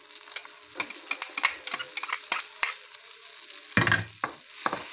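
Garlic sizzles in Star margarine while being stirred for menudo: close spoon scrapes and clinks against the pan over a light frying hiss, with one louder burst of sizzle near the end.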